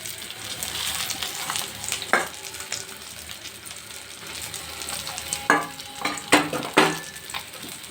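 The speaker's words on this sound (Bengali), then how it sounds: "টাটকিনা মাছটা হলুদ মরিচ দিয়ে মেখে ভেজে নিচ্ছি" Tatkini fish rubbed with turmeric and chili frying in oil, a continuous close sizzle broken by several loud scraping and knocking strokes of the spatula in the pan, no one speaking.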